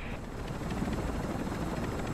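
Helicopter rotors thrum steadily at an extraction point in the DMZ Zombies video game, a loud, continuous beating drone with no pause.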